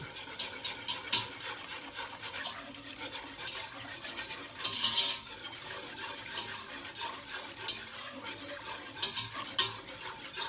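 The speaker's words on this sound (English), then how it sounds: "So we're just going to give this a quick whisk up." Sweet and sour sauce for goose is whisked briskly in a pot, giving a continuous close scraping swish with small metallic clinks and a faint sizzle underneath, with no voices.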